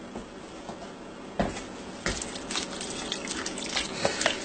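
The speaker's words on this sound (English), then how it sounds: "Let me give it a good stir here." Gumbo with broth is stirred in a slow cooker, giving wet, squelching spoon strokes and light clinks against the pot, close and irregular, with no speech.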